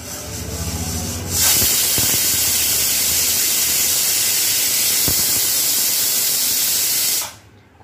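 A pressure cooker whistle releasing steam on a kitchen stove, a loud continuous hiss that bursts on after a duller lead-in, holds steady for about six seconds, then cuts off abruptly.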